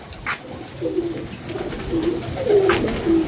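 Soft, low cooing from pigeons repeats several times at close range, with faint chirps from other birds now and then.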